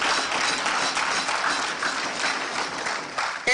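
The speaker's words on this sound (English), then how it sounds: "Give them a round of applause." An audience at a credit union's annual general meeting applauds, a steady wash of clapping hands that holds fairly even for a few seconds without speech.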